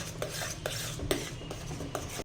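A spoon stirs rice kheer with added sugar in a pot, producing repeated close scraping and clinking strokes against the metal at a steady, brisk rhythm.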